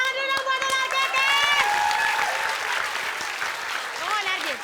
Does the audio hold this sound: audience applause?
yes